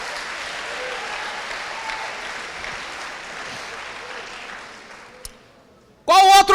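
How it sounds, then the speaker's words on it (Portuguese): A church congregation applauds in a long, steady wash of clapping that fades out near the end, followed by a burst of loud, resonant voice or music. "dê um aplauso para o Senhor aí, irmão"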